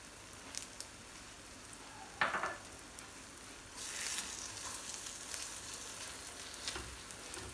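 Shrimp, vegetables and seasoned eggs fry in a pan with a soft, steady sizzle, faint and close, punctuated by a few light clicks and stirring scrapes; the sizzle swells slightly partway through.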